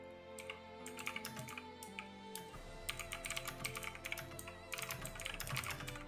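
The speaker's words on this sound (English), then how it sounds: "Who the hell typing back there?" Rapid clattering keystrokes on a computer keyboard during a PC game stream, fast irregular bursts of clicks that run through most of the clip over a low background hum and quiet game sounds.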